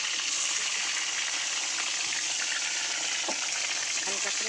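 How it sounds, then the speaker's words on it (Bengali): Eggplant pieces frying in hot oil with nigella seeds, a dense, steady, close sizzle with a faint clink or two and no talking. "চলো বেগুনগুলো একটু ভেজে নিই"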